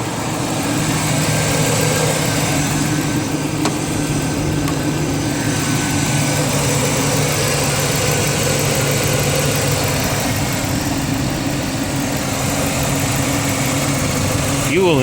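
A 5.3 V8 with new intake gaskets and fuel injection idles rough, a steady loud engine drone running throughout without letup, with voices talking over it.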